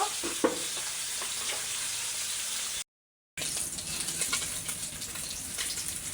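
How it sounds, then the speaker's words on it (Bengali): Bata fish fry in hot oil in a home kitchen, giving a steady, soft crackling sizzle with a few sharper pops, broken by a brief gap of silence. "এই জন্য দুইবারে ভেজে নেব"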